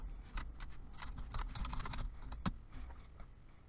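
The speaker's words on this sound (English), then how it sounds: "I'm going to type in my text." Rapid clicking keystrokes on a computer keyboard as text is typed, close and continuous with a few louder key taps and no talk.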